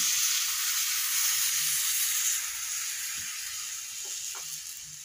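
Patishapta batter sizzles on a hot tawa griddle, a close, steady, bright hiss that eases slightly toward the end, with faint kitchen clatter and no talking.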